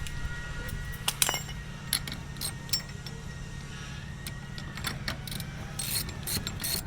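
Someone tightens a ratchet strap on a Jerr-Dan tow truck wheel lift, with quiet repeated clicks and clinks of the ratchet mechanism close by over a low engine hum.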